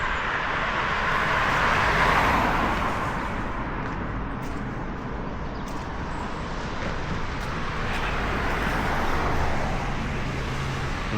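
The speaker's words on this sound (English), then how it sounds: "Be nice to get off this bloody main road with these cars." Cars roll along a busy village main road, a continuous broadband roar of traffic swelling as vehicles pass close by, with no pause between them.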